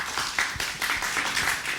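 An audience of schoolchildren and adults at a primary school program applauds, many hands clapping in a brisk, continuous patter at moderate volume, with a voice faintly beneath.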